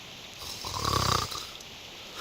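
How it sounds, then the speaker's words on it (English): A single drawn-out snore from a sound effect in the Reverse 1999 visual novel game swells and fades over quiet background hum, with no voices. "What we want to know is how an apple can snore."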